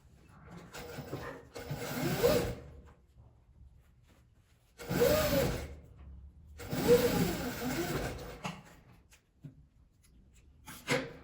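A sewing machine runs topstitching along an opened seam of fabric for a small trapezoid zipper pouch, buzzing in three long bursts separated by pauses, close up with no talking.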